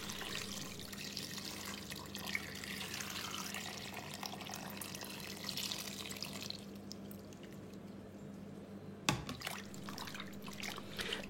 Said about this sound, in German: Anschließend gieße ich das Gemüse mit Wasser auf,